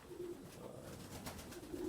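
Racing pigeons coo softly in a loft, low murmuring calls rising and falling against a faint, noisy background with no one talking.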